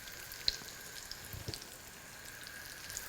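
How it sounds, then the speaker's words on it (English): Cod fillet sizzling in hot butter in a pan, a faint steady hiss with scattered soft pops and crackles, heard alone at low level. "Our butter is well and hot and sizzling, and we're gonna place our fish 3 minutes per side."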